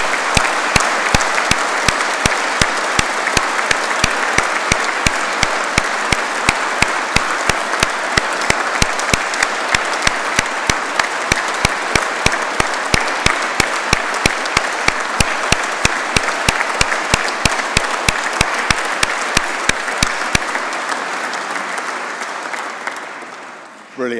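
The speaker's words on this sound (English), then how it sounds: "give these guys a round of applause." Audience at a military engineering awards ceremony applauding steadily, a loud sustained clapping from a large crowd lasting over twenty seconds before fading.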